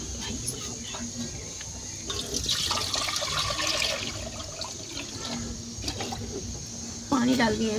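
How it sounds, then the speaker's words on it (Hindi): Water poured into a pot for cooking rice in a village kitchen, a splashing, gurgling stream that swells in the middle, with someone talking over it. "पानी डाल दिए हैं चावल बनाने के लिए।"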